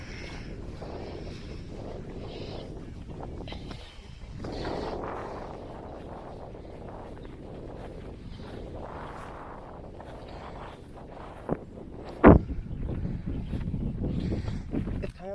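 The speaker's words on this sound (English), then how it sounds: "It's quite windy up here." Wind blows across the Athabasca Glacier in the Columbia Icefields, gusting and buffeting the microphone in uneven low surges, with one sharp knock near the end.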